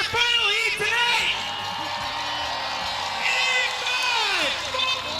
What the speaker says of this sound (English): Crowd, let's give some noise for our final heat tonight!